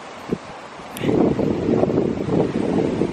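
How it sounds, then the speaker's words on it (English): Cold gusts of wind buffet the microphone on a rocky stretch of coast at St Ives, a rough, rushing roar that swells after a quiet first second. "it's so cold and windy"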